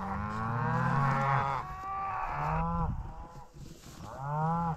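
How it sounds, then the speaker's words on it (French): Cows low in wildfire smoke, three long, drawn-out moos in turn, fairly close and clear against a quiet outdoor background. "Des vaches dans la fumée."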